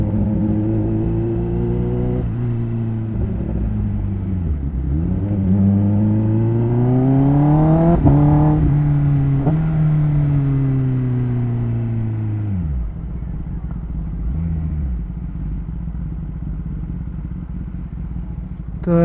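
Motorcycles rev and pass at the Dankuni toll plaza, a loud engine rumble whose pitch climbs and falls in long sweeps before it settles into a lower, steadier drone.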